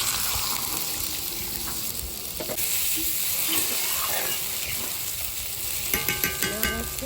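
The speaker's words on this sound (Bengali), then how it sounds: "এবার আমি জল দিয়ে দিচ্ছি" Water poured into a hot pan of vegetarian lentil-fritter curry, a continuous loud sizzle and hiss with splashing, ending in a few clattering knocks.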